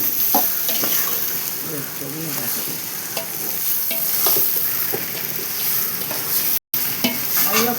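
Vegetable biryani mixture stirred and frying in a pot with rock salt, a steady sizzle punctuated by scraping, clattering spoon strokes, close and continuous with a brief dropout near the end.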